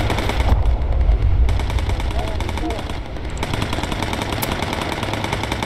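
Sustained rapid machine gun fire rattles in a World War II bomber aircraft game, loud and dense, with engine drone underneath and a slight easing of the bursts midway.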